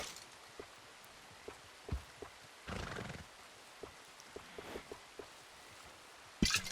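Horse in the Red Dead Redemption 2 video game, a few quiet hoof clops scattered through the clip, a brief neigh near the middle and a sharper sound at the end, faint and alone.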